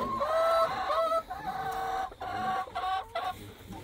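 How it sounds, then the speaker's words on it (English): Farm chickens clucking in a backyard coop area, several hens close by with repeated short clucks and a rising cackle, steady and fairly loud with no talking. "Go see your chickens?"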